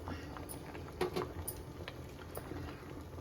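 Mixed dal simmers in a pot with a soft, steady bubbling and a few small pops and plops, close and quiet, with no talking.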